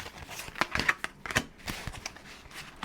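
A deck of cards being shuffled close by, a quiet series of quick riffling, flicking bursts with soft papery clicks over about three seconds, with no talk.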